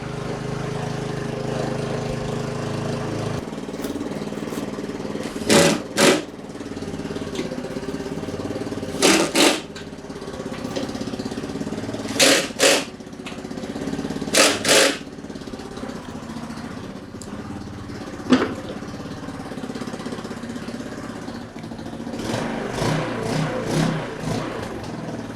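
A Honda 150cc scooter engine idles steadily while warming up, a continuous low hum running throughout with a few short sharp clanks from nearby work on the fuel tank bolts.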